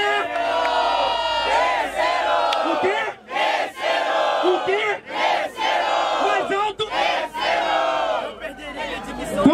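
Loud crowd at a freestyle rap battle cheering and chanting together in surging waves, dense and close.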